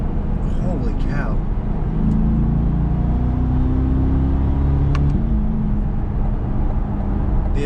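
2021 Corvette V8 engine and exhaust note droning steadily from inside the car, with a brief surge partway through. The level is loud and sustained, and a voice can be heard faintly over it.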